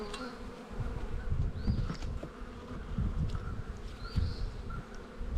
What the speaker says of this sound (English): Get those bees off the top of the quilt box.